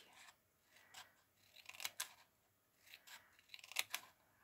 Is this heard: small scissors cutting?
yes